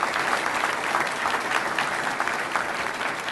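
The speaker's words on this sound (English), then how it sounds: "Applause, please." Dense, continuous applause from a crowd at a mayor's State of the City address, a thick wash of many hands clapping at once, loud and unbroken for a few seconds.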